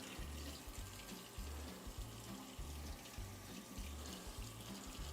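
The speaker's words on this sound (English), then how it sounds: "Just rinse it out real good." Cold water from a kitchen tap rinses the parts and mesh filters of a Vinci Express 2 cold brew maker in a sink, a steady close splashing flow with bursts of gurgling, no talking.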